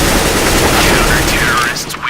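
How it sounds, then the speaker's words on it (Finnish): Counter-Strike: Global Offensive gunfire in a match, a dense, loud burst of rapid shots that fills the whole stretch before cutting off near the end, with a voice faintly underneath. "sori, ammuin sua päähän."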